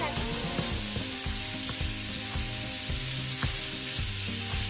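Minced meat fries in a hot pan while it is broken apart for stuffed tomatoes, giving a steady, close, dense sizzle with soft scraping and stirring strokes throughout and no voices.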